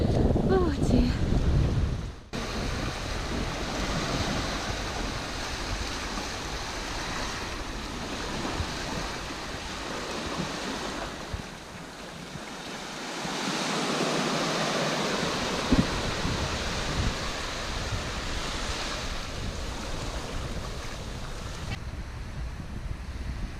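Steady roar of surf breaking on a sandy beach in Brittany on a windy September day, with wind buffeting the microphone throughout and a short dip in the wash midway.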